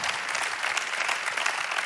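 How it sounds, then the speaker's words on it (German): A church congregation at a Zürich worship service breaks into applause, a dense, steady wash of clapping from many hands that holds at an even level for the brief moment, with no speech over it. "also geben wir ihnen einen Applaus."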